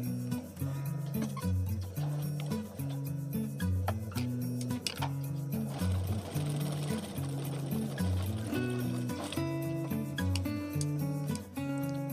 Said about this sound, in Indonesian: Kita jahit kembali di jahitan awal, jahitan yang tadi ya.